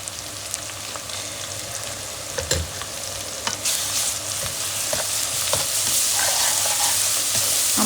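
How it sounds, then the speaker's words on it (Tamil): Ginger garlic paste sizzles and fries in a pan for a mutton gravy, with continuous crackling and spattering plus occasional scrapes and clinks of stirring, close and fairly loud. "இந்த இஞ்சி பூண்டு பேஸ்ட் நல்லா பச்சை வாசனை போகிற வரைக்கும் வதக்கிடணும்"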